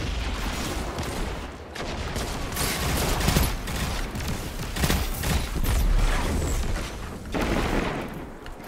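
Dense gunfire in a Destiny 2 Iron Banner match rattles almost without pause, layered shots and bursts filling the whole stretch at steady high loudness, with no voices on top.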